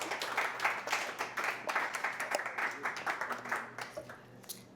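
A concert audience claps between songs, a faint, scattered patter of many hands that swells and slowly thins out over several seconds.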